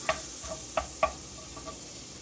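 Garlic cooking in a pan for a lasagna sauce gives a faint, low sizzle, broken by a few light clicks and taps as it is stirred around, with no voices.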